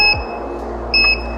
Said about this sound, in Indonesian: kita akan langsung mendengar bunyi beep selama 5 kali dan dia akan mulai masuk ke settingan